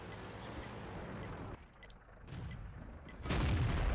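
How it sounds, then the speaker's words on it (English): Tank cannon fire in World of Tanks from a T-54 medium tank shooting at an M103, with booming shots over rumbling engine noise and the loudest blast landing near the end. "We put another shot into the M103 as well."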